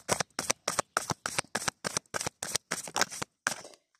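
Oracle cards being shuffled by hand, about a dozen crisp riffling bursts in quick, regular succession, close and clear with short gaps between them and no speech.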